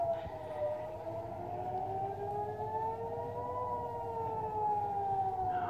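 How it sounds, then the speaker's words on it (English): A wailing siren rises and falls steadily in the distance near Qumran by the Dead Sea, continuous and alone with no voices. "just sirens go off"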